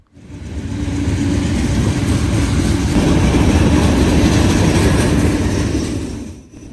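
A freight train led by Dash 8 locomotives rumbles past at night, a loud, sustained roar of engines and rolling cars that swells in and fades toward the end.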